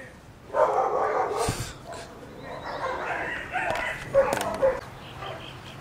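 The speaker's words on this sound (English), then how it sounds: "since I was rudely interrupted by the freaking neighbor's dogs" A neighbour's dogs bark outdoors at some distance, with several separate barks spread across a few seconds over steady background noise. No one speaks.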